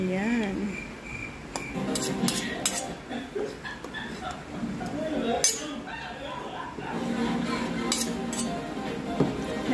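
Utensils clink and scrape against a bowl while a bitter gourd salad is tossed, the light metallic taps coming in irregular bursts at close range over faint background sound.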